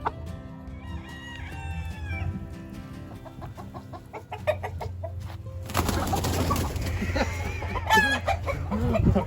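On a farm, chickens cluck and chatter close by with a rooster crowing among them, giving busy, overlapping bird calls that grow louder and denser in the second half.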